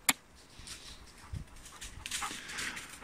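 A dog gives a single short bark at the start, outdoors during an installation on a grassy hillside, followed by faint rustling and distant sounds.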